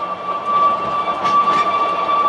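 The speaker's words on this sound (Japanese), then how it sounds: "列車はこれから約20カ所のトンネルを抜けてまいります。" A steady rolling rumble from an Oigawa Railway Ikawa Line train running on rails, heard from inside the carriage, with a sustained high tone over the wheel noise and no talking.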